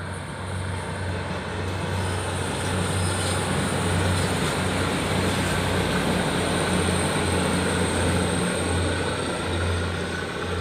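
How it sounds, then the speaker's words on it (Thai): A loud, steady mechanical rumble with a low droning hum runs throughout as a train rolls past nearby on the floating railway at Ban Khok Salung by the Pa Sak dam in Lopburi, Thailand, with no voices. "เสียงรถไฟมาแล้วครับผม"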